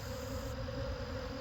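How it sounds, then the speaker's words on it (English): Dense, steady drone of a large swarm of honey bees around an open hive colony during an early-season honey frame inspection, close and continuous without a break. "There's so many bees."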